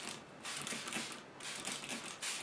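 Spray bottle misting water in bursts, several hissing sprays in quick succession with short gaps, close and fairly soft, no voices.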